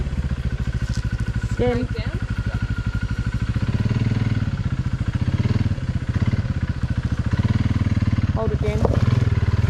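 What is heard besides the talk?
kids riding motorbikes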